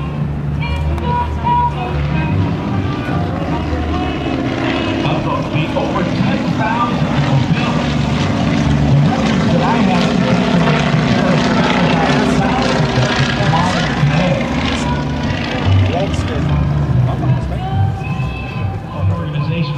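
A Stearman biplane makes a pass at an airshow, a steady, loud propeller drone with a broad engine rumble that holds throughout. Crowd noise sits underneath it.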